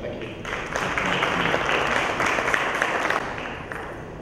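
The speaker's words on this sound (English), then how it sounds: "can we have a huge round of applause for all the speakers" Sustained audience applause fills a conference hall as a Cotton India business panel session closes, steady broadband clapping from a crowd lasting about four seconds before easing slightly at the end.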